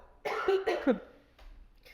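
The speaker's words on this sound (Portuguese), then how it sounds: "eu tô tossindo" A single close, harsh cough burst, followed by a quieter rough sound, like a throat being cleared, then near silence.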